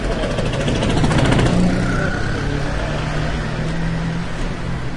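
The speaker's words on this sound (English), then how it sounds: "download the sound of a scooter engine" A scooter's small engine drones steadily at close range, a buzzing mid-pitched motor hum that swells briefly before settling into an even run.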